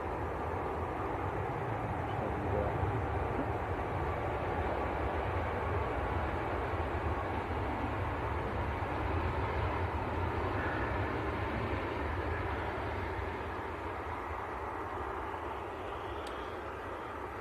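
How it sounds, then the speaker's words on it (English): A Ryanair airliner arriving from Faro at Manchester Airport, heard as a steady, broad jet roar that holds for many seconds before easing slightly at the end, fairly distant and without any talking. "Ryanair from Faro just arrived."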